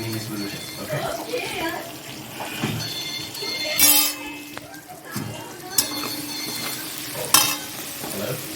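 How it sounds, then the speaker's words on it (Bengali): Bitter gourd, potato and stalk chorchori being stirred in a pan in a home kitchen, with soft scraping and sizzling, a few utensil clinks, and voices and household noise in the background. "এটা একটু নাড়াচাড়া দিয়ে নিই।"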